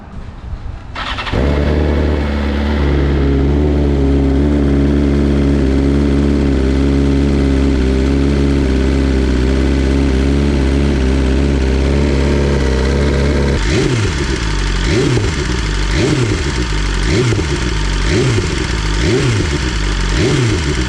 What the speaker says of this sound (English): let's also warm up the engine so the oil gets warm